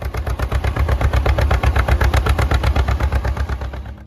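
A two-cylinder John Deere Model A tractor engine runs close by with a loud, steady, even pop-pop beat that holds throughout, with no talk over it.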